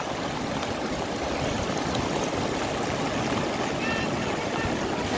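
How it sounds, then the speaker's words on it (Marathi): A strong, continuous rush of a stream's water flowing from a waterfall, loud and close, roaring steadily throughout with no pauses. "हे बघा पाणी पाण्याचा प्रवाह खूप मोठा आहे"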